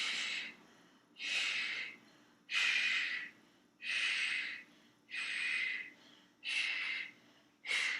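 Someone holding a hollow body exercise breathes heavily in six or seven rhythmic, forceful breaths about a second apart, close and clear with no talking.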